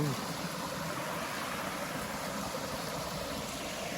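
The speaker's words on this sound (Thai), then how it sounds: "ขึ้นมาทางน้ำตกนะทุกคนนี่ ก็จะเป็นลำธารนนะ" A forest stream flowing below a waterfall, making a faint, even rush of water that continues without a break.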